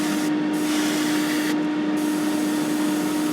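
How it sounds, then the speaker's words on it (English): Spray paint hisses steadily and close onto an Airfix 1/48 Messerschmitt Bf109E model kit, a continuous airy spray with a faint steady tone underneath. "Check your spray every now and then, your flow, make sure you're not got clogged up or any paint accumulating on the nozzle"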